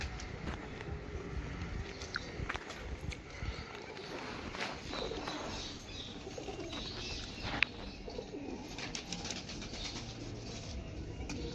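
A pair of Andhra pigeons coo faintly amid handling noise and shuffling, while a person talks over them throughout.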